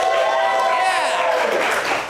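An improv comedy crowd at a local theater on a Saturday night applauds loudly with whoops and cheering voices mixed in, a sustained close burst that fades slightly at the end.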